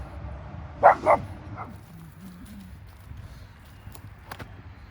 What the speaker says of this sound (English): I think he's barking at the garbage can.